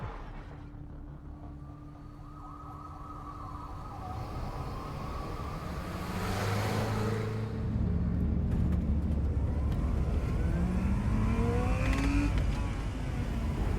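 Car engine revving and accelerating in the video game Life is Strange: Reunion, with rising and falling engine tones that build louder over several seconds alongside steady background noise and a brief voice.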